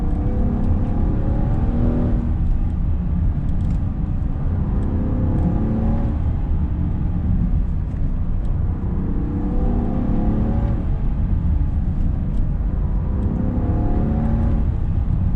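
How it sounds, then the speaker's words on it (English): A Land Rover Defender 90's supercharged straight-six engine revs up and down in smooth, repeating swells, a continuous deep mechanical drone with no voices. "this new straight six sounds really nice"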